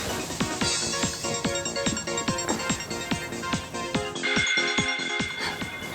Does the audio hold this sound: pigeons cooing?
no